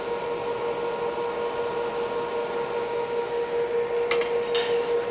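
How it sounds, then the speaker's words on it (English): TIG welding a small 1/8 fillet weld on 10 gauge mild steel with a Longevity TIGWELD 250EX, a steady electrical hum and buzzing tone holding evenly, followed by a few brief clicks near the end. "We just made a TIG weld on mild steel 10 gauge, and we did a little 1/8 fillet weld"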